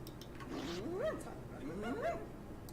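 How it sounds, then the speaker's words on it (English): Dog barking sound effect from a tabletop game ambience app, two rising, yelping howl-like barks about a second apart, fairly faint in a quiet background. "There's some weird barking noises on Sirenscape."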